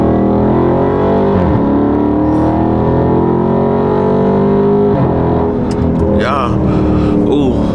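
A Dodge Charger (Hellcat-style) accelerates hard in first gear, its loud engine roaring and rising in pitch with gear-like steps, close and continuous, with a brief voice toward the end.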